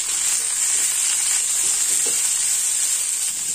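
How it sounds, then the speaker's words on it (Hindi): Chopped amla is stirred into hot oil with a continuous bright sizzle, and faint scraping of the spoon runs through it; there is no talking. "आंवले को तेल में मिक्स कर देंगे।"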